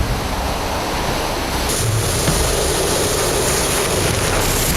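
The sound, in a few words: three tons of water flooding onto makeshift shelters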